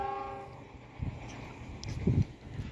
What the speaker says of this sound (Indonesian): Kereta api Argo Lawu tujuan Gambir dengan rangkaian livery jumbo teman-teman.